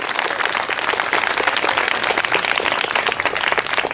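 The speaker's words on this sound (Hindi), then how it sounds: "अरे ताली बजाओ" A crowd of protesters at a hunger-strike sit-in, women and children among them, claps continuously, a dense unbroken patter of many hands close by for several seconds with no speech over it.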